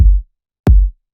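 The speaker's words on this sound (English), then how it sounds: "So I have two kick samples here. The first one is kick A," Two deep, booming kick drum hits, each a short punchy thump with a quick decay, separated by silence.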